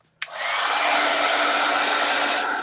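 A hair dryer clicks on after a brief quiet moment and blows steadily at close range, a loud continuous whooshing hum with a faint motor whine, used to dry a craft project.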